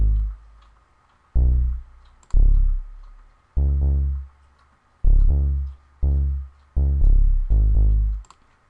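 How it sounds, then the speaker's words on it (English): A sub bass synth built from a single saw wave in FL Studio plays eight separate low, booming notes in an uneven rhythm, each hitting hard and then fading, loud and alone with no other instruments. "my sub bass, sounds like this."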